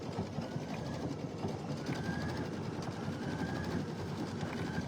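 An embroidery machine sews a decorative stitch around a small heart appliqué, giving a steady, rapid, whirring mechanical rattle at a moderate level that stays even and continuous throughout.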